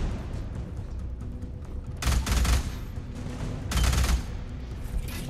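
Enemy machine gun fire in the first-person shooter Alien Rage, two loud bursts of rapid automatic shots with a pause between them, over a steady rumbling game background.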